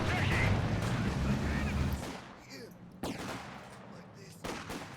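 An MG42 machine gun fires rapid bursts in a World War II video game battle between Axis and Allied forces, with loud staccato rattles early and sharp intermittent reports later, amid other battle noise.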